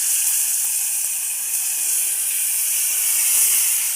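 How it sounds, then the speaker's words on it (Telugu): Broad beans drop into hot oil with onions and turmeric in a pan, giving a loud, steady sizzling hiss that runs without a break. "చిక్కుడుగాయ వేసుకోవాలి."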